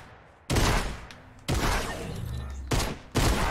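Four loud, close shotgun blasts from Fortnite jump shots ring out at uneven intervals, each a sharp burst that trails into a brief decaying tail.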